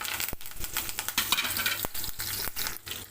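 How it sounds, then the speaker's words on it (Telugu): Dried red chillies, cumin and curry leaves sizzle in hot oil for a tempering, a loud continuous crackle and hiss with sharp pops and occasional clicks of a spoon against the pan, and no voices. "ఇప్పుడు ఆయిల్లో 2 ఎండుమిరపకాయలు, కొద్దిగా తాలింపులు, జీలకర్ర, కరివేపాకు"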